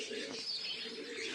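Pigeon cooing, a soft continuous murmur from a bird kept indoors while it is treated for leg weakness, steady and close with no speech over it.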